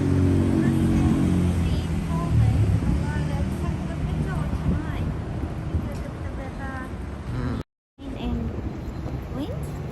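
Wind gusting across an open boat on a river cruise during cherry blossom season, a loud steady rush on the microphone with people chatting and a brief dropout near the end.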